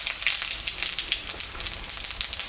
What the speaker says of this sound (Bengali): মাছ ভাজা তেলের উপরে শুকনো লঙ্কা জিরা সম্বরা দেব,